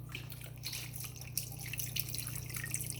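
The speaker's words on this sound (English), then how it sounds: "you're going to use half of the container and pour it on top" Chicken broth from a carton poured over chicken breast in a pressure cooker for homemade chicken noodle soup, a quiet trickling and dripping liquid sound with a steady low hum underneath, no speech.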